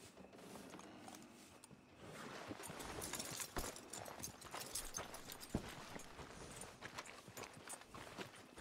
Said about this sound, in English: Are you gonna mount that new horse of yours or not?